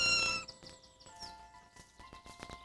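A kitten separated from its mother gives a short, high meow near the start, followed by quieter scattered barnyard noises.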